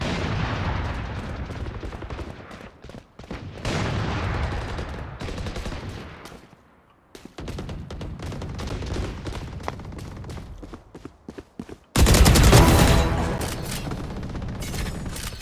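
Bursts of video game gunfire crackle in rapid volleys with short pauses, breaking off briefly midway before a loud, dense barrage takes over near the end.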